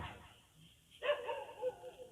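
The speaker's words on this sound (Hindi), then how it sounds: "कुत्ते ज़्यादा भौंक रहे हैं" Dogs bark at a distance, a few faint yaps and barks trailing one after another in an outdoor setting, low in level with some background noise.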